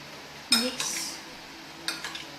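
Fresh cream mixed in a bowl, two sharp clinks of a utensil against the dish, then softer scraping and stirring, close and clear, with no talking.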